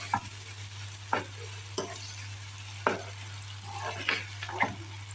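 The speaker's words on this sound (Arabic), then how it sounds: "هنا شويه زيت، راح ندير البصل تاعي نخلي البصل تاعي مليح." Onions frying in a little oil, a quiet sizzle broken by several scraping stirs at uneven intervals, with a steady low hum underneath and no voices.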